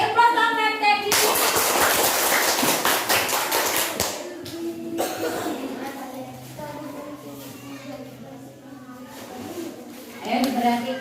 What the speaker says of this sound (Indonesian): Beri aplaus dong, Teddy.